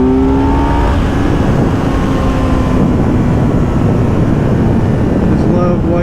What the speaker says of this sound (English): Just love the way that engine sounds.